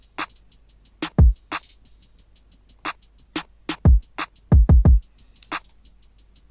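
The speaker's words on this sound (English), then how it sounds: "The kick itself sounds like this." Punchy kick drum sample for a midwest indie beat, thumping deep and loud in a syncopated pattern, heard alongside crisp hi-hat ticks and snare hits.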